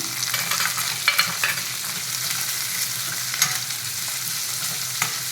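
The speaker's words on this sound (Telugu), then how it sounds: "ఇప్పుడు ఆనియన్స్ వేసుకున్నాము. చిన్నగా కట్ చేసుకున్న ఆనియన్స్ వేసుకున్నాము." Finely chopped onions sizzle steadily in a hot pan, with a constant close frying hiss and a few light clicks from stirring, and no voices.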